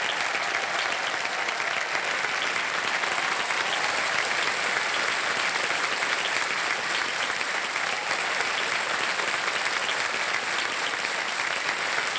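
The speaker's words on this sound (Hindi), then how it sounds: "तालियां बज जाएं इनके लिए।" A studio audience on a TV quiz game show applauds a contestant's correct answer, loud dense clapping sustained evenly for several seconds without talk.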